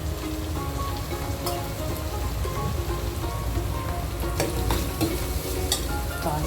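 Ginger garlic paste fries with turmeric and chilli powder in a pan, a steady close sizzle with scattered crackles and the occasional scrape of stirring, no voices.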